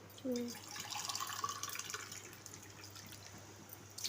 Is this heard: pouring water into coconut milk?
yes